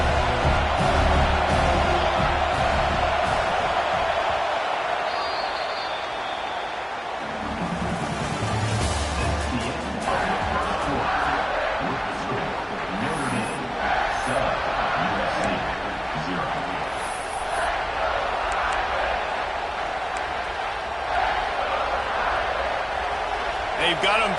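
A football stadium crowd roars continuously through a USC versus Notre Dame game, a loud, dense wall of cheering that swells and dips under a commentator's voice.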